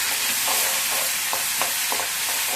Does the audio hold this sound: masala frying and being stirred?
yes